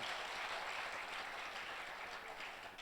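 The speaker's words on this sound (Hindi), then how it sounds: "एक बार भरपूर तालियां बजाइए" Audience applause at a Hindi comic poetry gathering, a steady, dense wash of many hands clapping from a hall crowd, holding level for a few seconds before easing slightly at the end.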